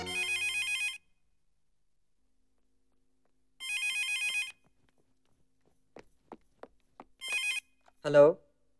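A telephone rings in three bursts of electronic trilling, each about a second long with long silent gaps, in an indoor scene from a 2003 Pakistani Punjabi film; a few soft footsteps or knocks and a short voice sound come near the end.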